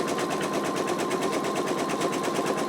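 Embroidery machine stitching an in-the-hoop wallet, a rapid, steady needle rattle with regular pulsing beats and a faint high whine, close and continuous with no talking.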